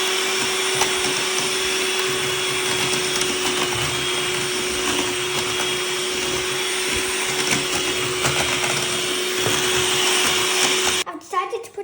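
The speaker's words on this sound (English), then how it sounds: "first we're gonna whisk it so it's cooler, and then we'll add the gelatin while we're whisking it" An electric whisk whirs steadily and loudly through an apple marshmallow mixture, a constant motorized drone that cuts off abruptly near the end.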